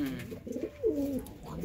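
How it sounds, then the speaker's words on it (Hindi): A single low flyer pigeon gives a low, throaty coo that rises and falls, close and fairly clear over faint background noise. "ये प्योर लो फ्लायर कबूतर है"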